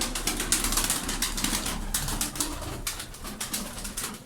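Tumbler pigeons cooing among a flock of about twenty birds, soft repeated low coos over a steady hum, with occasional wing flutters and faint chirps, no voices.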